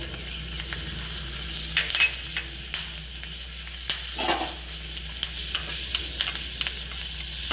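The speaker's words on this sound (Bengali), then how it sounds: "নুডলসের গ্রেভি তৈরি হতে হতে আমরা পেঁয়াজটা বাটারে টস করে নেব" Onion tossed in butter in a pan for Kolkata-style gravy chowmein, giving a steady, close sizzle broken by a few scraping stirs, with no talking.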